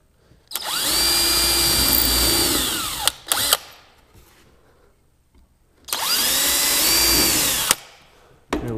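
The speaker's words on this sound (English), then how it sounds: "So we've got our four pilot holes already drilled" A power drill boring pilot holes in two loud, sustained bursts separated by a quiet pause, each with a whining motor that winds up and then spins down, with short bumps of handling noise between.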